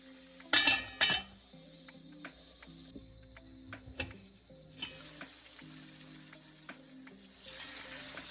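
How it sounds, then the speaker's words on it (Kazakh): Onions frying with meat in a pan for Kazakh kuyrdak, a steady close sizzle with a few sharp metallic clinks of a utensil against the pan near the start and light stirring scrapes throughout. "пиязымызды салып тағы да қуырып алатын боламыз"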